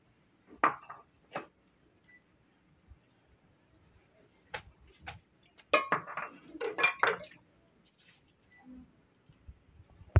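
Dishes and pots being washed, with scattered metallic clinks and clatters in short bursts, fairly close and moderately loud, separated by quiet pauses.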